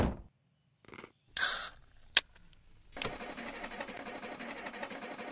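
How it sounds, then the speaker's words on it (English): An old junkyard truck engine cranks in short bursts, then catches and settles into a steady, moderately loud idle running to the end. "come on, crank truck."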